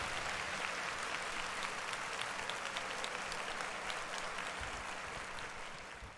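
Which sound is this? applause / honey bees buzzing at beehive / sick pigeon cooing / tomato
applause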